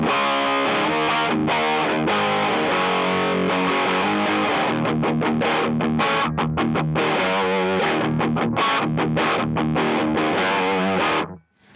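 An electric guitar runs through a Klon KTR overdrive pedal, strumming thick, driven chords continuously for about eleven seconds, with rhythmic choppy accents in the second half, loud and close, then cutting off abruptly.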